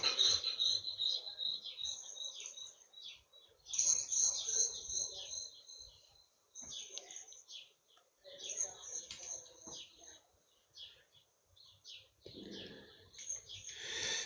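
Birds call outdoors in bright, scattered high chirps and tweets, with insect-like trills mixed in and someone talking intermittently underneath.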